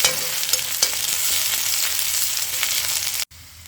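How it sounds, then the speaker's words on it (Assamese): Steady, loud sizzling of ginger, garlic and bhut jolokia chilies frying in hot oil, with a few clinks of stirring, cutting off abruptly near the end. "এইখিনি মই ভালদৰে ভাজি ল'লোঁ।"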